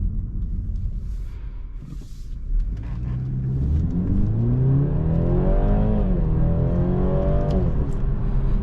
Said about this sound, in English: this inline 4 has a nice like throaty exhaust sound to it